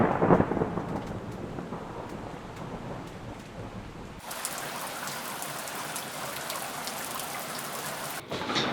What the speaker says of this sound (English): The rain just started coming down.